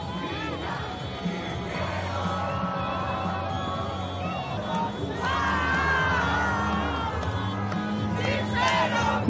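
Football fans in the streets of Batumi after a match, a crowd chanting and shouting with sustained cheers and whoops, dense and continuous, growing louder toward the end.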